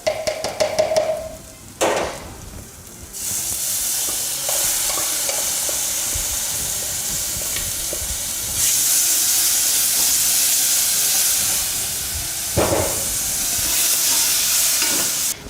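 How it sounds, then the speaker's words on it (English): Diced tomato tossed into hot oil for maharagwe, a bean stew served with chapati, sizzles and hisses steadily, with stirring clatter and loud bursts of frying as the pan is worked. No one speaks. "So now we can add our tomato."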